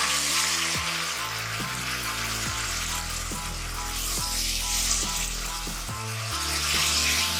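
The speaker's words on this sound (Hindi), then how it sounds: "इसको अच्छी तरह से भून लेंगे" Onion with ginger-garlic paste and a splash of water sizzles steadily in a pan for matar pulao, a continuous loud hiss with a few soft scrapes of stirring and no voices.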